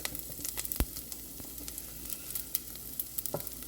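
Ginger and garlic sauté in a pan for Hainanese chicken rice, giving a soft, low-level sizzle dotted with sharp crackles and pops, with no voices.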